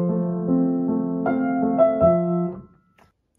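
Piano phrase from Beethoven's Für Elise, B section, with grace notes played on the beat: sustained harmonic notes with a few quick ornamental attacks, moderately loud and solo, fading to silence near the end.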